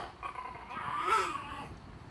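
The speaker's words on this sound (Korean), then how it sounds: "뭐만 했다 하면 으르렁 물려고 하는 녀석." A small dog growls and snarls at its owner while lunging to bite, a rising rough growl swelling midway through the short clip, close and fairly quiet against a light room background.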